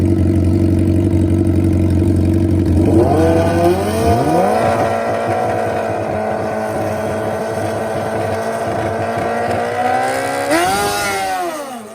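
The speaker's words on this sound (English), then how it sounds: "Two fast GSXRs ready to get down." Two Suzuki GSX-R motorcycles at a drag strip idle loudly, then engines rise sharply in pitch as they launch, holding a strained high rev before a final upward climb, no talk.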